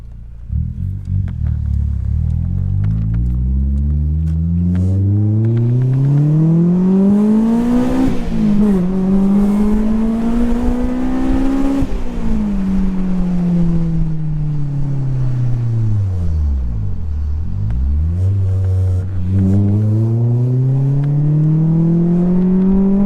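A Honda S2000 with a loud exhaust revs up and down on a dyno, its engine note climbing steadily to a high scream, dropping, then climbing again, loud and close throughout.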